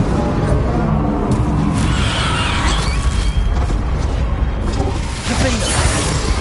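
Confringo blast spells in Hogwarts Legacy, a loud continuous barrage of booming explosive bursts and whooshes layered over dense game effects with no pauses, steady and close throughout.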